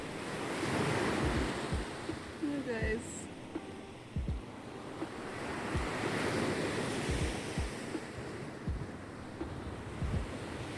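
Ocean surf rolls and washes onto a beach in steady broad surges, with wind buffeting the microphone, while people talk briefly nearby in a relaxed outdoor setting.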